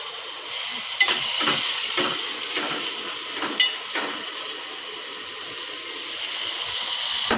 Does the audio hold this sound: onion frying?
yes